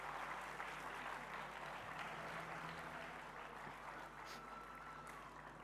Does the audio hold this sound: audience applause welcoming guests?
yes